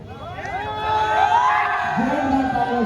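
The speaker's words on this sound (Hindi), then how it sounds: "जोरदार तालियों से हम स्वागत करें वैभव जी का।" Cheering and shouting rise from a large audience at an outdoor Bharat Milap award ceremony in Tilthi, growing louder after the first second and staying dense with whoops and voices.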